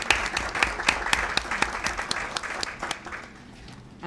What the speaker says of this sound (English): just like to give these young people a round of applause for their service